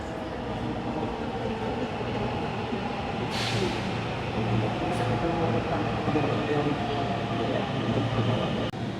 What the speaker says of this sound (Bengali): আমাদের ট্রেনও চলে এসেছে